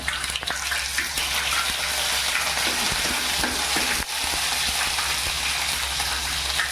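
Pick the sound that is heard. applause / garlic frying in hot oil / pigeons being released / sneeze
garlic frying in hot oil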